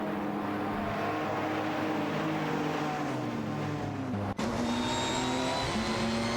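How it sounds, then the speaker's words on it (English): Race car engines from a racing video game, a Peugeot 207 GTI and an Infiniti Q50 among them, whine steadily with layered engine tones that dip and rise after a brief dropout, loud and continuous with no talk. "Everlasting Apex and Sputnik NZ are fighting it out for P30 with their Peugeot 207 GTI and Infiniti Q50 Eau Rouge respectively"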